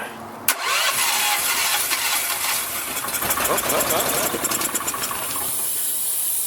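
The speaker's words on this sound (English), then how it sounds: "Gonna choke it and see if we can get it to start." Emglo air compressor with a small gasoline engine, choked and cranked for a start attempt, giving a sharp initial burst and then a steady hissing, rattling mechanical roar that stays fairly loud and close.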